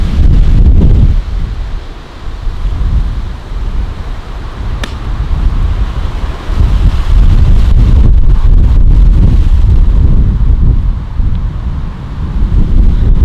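Strong gusting wind buffets the microphone on a golf course at Royal Ascot Golf Club, in loud, surging blasts that rise and fall for the whole stretch, with no voices.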